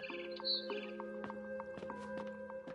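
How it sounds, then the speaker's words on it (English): A barn swallow chirps outside a window, giving short tweets and twittering notes that are faint and a little distant over a steady background hum. "Then I heard chirping outside my window."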